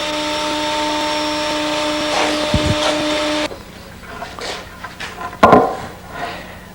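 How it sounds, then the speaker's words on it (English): A woodworking jointer surfacing a board face runs with a steady, loud motor drone for about three and a half seconds, then cuts off, leaving quieter knocks and handling of the board. "When you've completely surfaced the second face, flip the board and finish up the job you started on the joiner."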